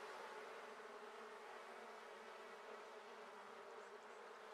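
Bees buzzing in The Sims 4, a steady, dense hum that holds at an even level throughout without pause, close and continuous with no voices over it.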